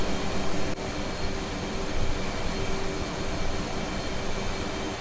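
Jet aircraft engine in the DCS World flight simulator game, a constant loud broadband roar with a faint steady hum running through it, no voices.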